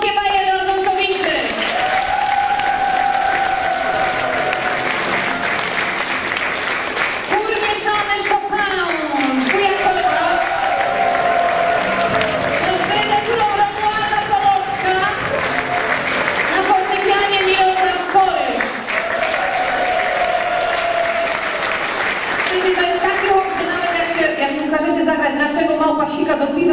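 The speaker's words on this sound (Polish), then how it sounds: "Już żeście im raz poklaskali, ale oni bardzo lubią oklaski." Audience applause at a Silesian Ostatki carnival party: sustained crowd clapping runs throughout while loud voices, talking or singing, ring out over it.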